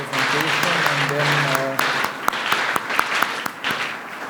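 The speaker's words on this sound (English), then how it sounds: "a big applause to our keynote speakers for their presentation" Conference audience applauds keynote speakers after a data science presentation, a sparse scattering of claps with some tonal music or voice early, thinning into separate distinct claps toward the end.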